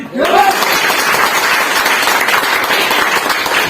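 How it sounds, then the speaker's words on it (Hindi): A crowd breaks into loud, sustained applause, many hands clapping densely and evenly after a brief voice at the start. "जोरदार ताली"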